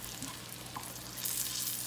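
Hotdogs fry in a pan, giving a steady soft sizzle and crackle with occasional stirring scrapes, close and fairly quiet throughout.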